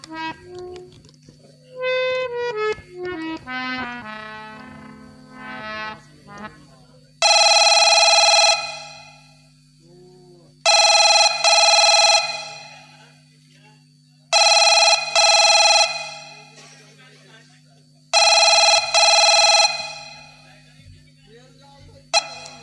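A telephone rings loudly in four long, bright bursts separated by short silences, preceded by a rising and falling sequence of electronic tones.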